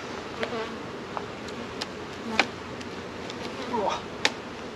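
Honey bees swarm around an opened hive box, their dense buzz steady and close throughout, broken by brief sharp knocks and clatters as frames are handled; a voice comes in faintly now and then.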